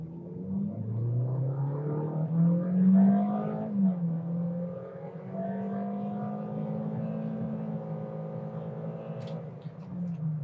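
A 2024 Toyota Corolla sedan accelerates hard from standstill to 100 km/h with stability control and air conditioning on, the engine droning and rising steadily through gear changes, heard from inside the cabin.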